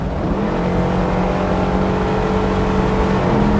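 Loud, sustained roar of a 1969 Chevy K5 truck engine at full throttle, a steady droning rumble from inside the cab with rising pitch.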